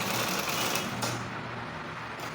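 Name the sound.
sewing machine sewing a curved trouser seam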